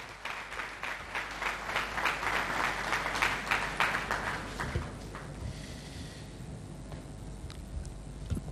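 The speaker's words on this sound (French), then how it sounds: "Sous vos applaudissements, s'il vous plaît." An audience at a formal ceremony applauds, dense clapping that swells for about five seconds and then thins into scattered claps and quieter room noise.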